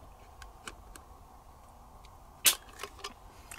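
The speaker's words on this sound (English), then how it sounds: "We're going to check the trigger pull weight with our Lyman trigger gauge from Brownells" An FNS 9C pistol's trigger pulled with a Lyman trigger gauge: a few faint clicks and one sharp snap of the trigger breaking, close up and quiet, with no talking.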